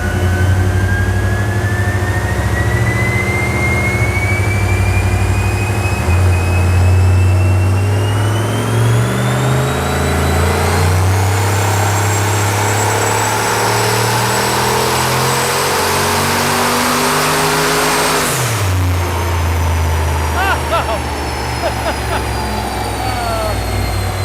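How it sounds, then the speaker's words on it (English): A twincharged Hellcat-style Magnum engine with an iced-down blower screams through a loud, sustained full-throttle dyno pull, rising steadily in pitch before abruptly dropping off as the run ends near the finish. "On the final dyno run there, we iced down the blower, tried to see if we could get over that 600 mark."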